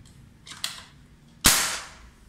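Two sharp shots from a regulated PCP M22 air rifle firing solid pellets, the first quieter and the second a loud close crack that rings out and decays, with no talking.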